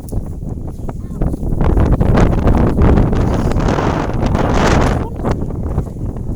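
Strong wind buffets an outdoor spot in rural Thailand during a storm, roaring and gusting loudly across the microphone with rustling throughout and no talking.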